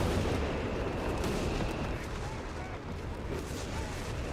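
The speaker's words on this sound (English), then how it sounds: "double Bishop Barrage coming in on the med bunker" Double Bishop artillery barrage pounding a med bunker in a strategy video game, heard as a dense, continuous rumbling roar with no distinct separate impacts, under faint background chatter.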